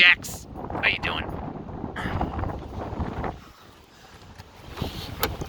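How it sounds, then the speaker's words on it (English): Wind blowing outdoors beside a van, rumbling gusts buffeting the microphone steadily and easing toward the end, with a voice speaking briefly over it. "Woo, it's windy."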